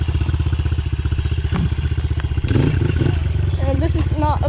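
A motorcycle engine starts up and runs steadily, then revs up near the end, ahead of a practice wheelie at a distance marked by a cone on uneven ground. A voice talks over it throughout.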